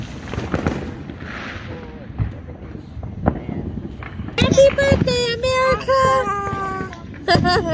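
Independence Day fireworks going off outdoors as a series of sharp pops and booming bursts at varied intervals, with voices cheering and talking over the later blasts.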